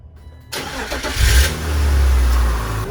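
A BMW E36 M3 engine cranks and fires up with a quick starter whir, revs briefly, then settles into a loud, rumbling idle close by.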